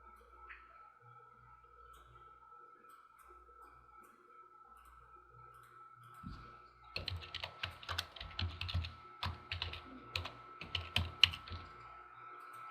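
A computer keyboard is typed on to enter a password, with quiet hum for the first half, then a brisk run of close, crisp keystrokes with uneven gaps.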